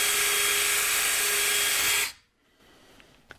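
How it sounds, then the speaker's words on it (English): Drill bit boring through metal at tap size, a loud, steady whining grind that runs for about two seconds and then cuts off into near silence with a faint click. "and drill through with the tap size drill."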